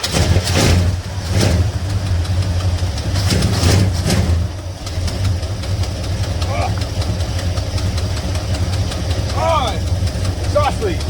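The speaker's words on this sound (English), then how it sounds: "Oh, exhaust leak." A 1974 Plymouth Roadrunner engine idles with an exhaust leak, a steady close low rumble that runs throughout. Brief exclamations and squeaky sounds break in near the end.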